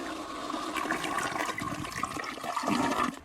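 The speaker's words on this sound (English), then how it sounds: "Don't flush it!" A toilet flushes nearby with a steady rushing, gurgling swirl of water that runs continuously for several seconds, building slightly louder near the end before cutting off.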